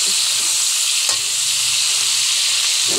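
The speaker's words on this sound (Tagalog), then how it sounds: "Haluin natin ulit." Pancit bihon rice noodles with string beans are stirred in a hot wok, a continuous loud sizzle with occasional scraping strokes of the spatula.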